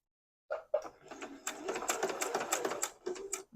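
A sewing machine chain-piecing quilt blocks for a hidden nine-patch, running in short stitching bursts then a longer steady whirring run, close and clear with brief pauses between pieces.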